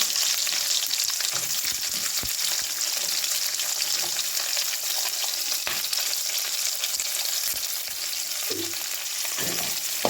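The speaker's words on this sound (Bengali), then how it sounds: "তারপর দিয়ে দিলাম পেঁয়াজ কুচিগুলো" Chopped onions fry in a wok for a chilli chicken dish, producing a continuous loud hiss and crackle with a few spoon clicks and scrapes as they are stirred.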